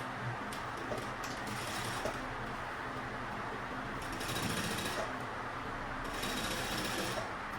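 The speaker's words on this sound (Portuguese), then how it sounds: "Costurando do início, retrocesso." A sewing machine stitches a bag, running in short bursts of rapid mechanical chatter with brief pauses between, steady and close, including a reverse backstitch at the start.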